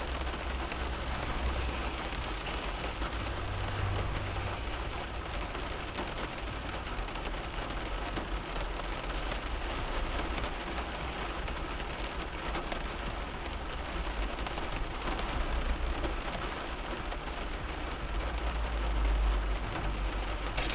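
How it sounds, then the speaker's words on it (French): Steady rain patters and hisses without pause, a dense, even wash of drops on surfaces, with no voices. "tombe la pluie, la flotte."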